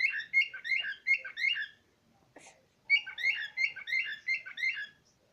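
A pet bird chirps at its own mirror reflection, bursts of bright, rapid tweets close up, pausing briefly midway before another run of quick chirps.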